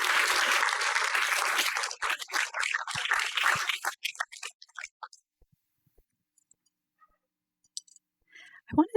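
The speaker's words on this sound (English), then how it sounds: "Please join me again in giving Jon Shenk and Justine Nagan a huge round of applause." Audience applause after a screening and panel discussion with documentary filmmakers, dense clapping from a crowd for several seconds, then thinning to scattered claps and fading into near silence with a few faint stray sounds.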